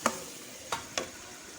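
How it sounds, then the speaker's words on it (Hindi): Boneless marinated chicken cooks with garlic in a pan under a soft, low sizzle, broken by three sharp utensil clinks or scrapes, one at the start and two close together about two-thirds of a second later, with no voices. "अब इसको आप उतना पकाएं ताकि चिकन जो है तो वो अपना कलर थोड़ा सा चेंज कर ले।"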